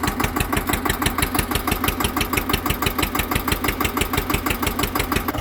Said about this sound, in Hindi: ट्रैक्टर स्लो रेस पर जो ट्रैक्टर को चला रखा है